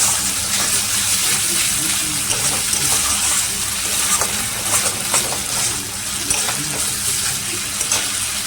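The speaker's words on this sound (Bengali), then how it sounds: "তার মধ্যে দিয়ে দেবো এখন একটু সামান্য একটু গরম জল" A little hot water added to frying spice masala in a pan for a Bengali rui fish curry; sustained loud sizzle and watery bubbling hiss with stirring scrapes, close up and continuous.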